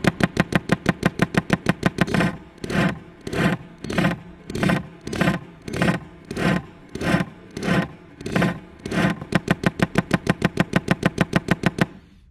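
A Ferrari electric fuel pump runs on the bench, its plunger and diaphragm clicking in a fast, steady buzzing rhythm that slows to pulsing beats mid-run and then speeds up again, loud and close.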